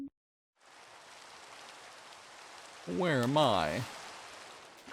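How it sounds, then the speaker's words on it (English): Constant soft patter of rain falling in the Minecraft video game on the Wii U, an even wash of noise that runs under a man's brief spoken question. "It's raining, but that's not a problem."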